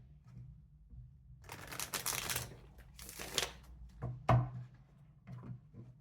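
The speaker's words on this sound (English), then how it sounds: "I'll give it a quick shuffle." A few quick riffling bursts of tarot cards being shuffled, close and fairly quiet, followed by soft taps and handling noises.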